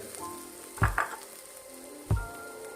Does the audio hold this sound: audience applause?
no